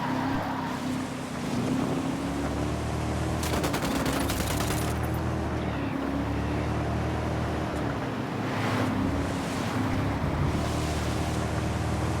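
Rapid automatic gunfire rattles in a short burst in Ghost Recon Wildlands, riding over a constant engine drone and rumbling background; no one speaks.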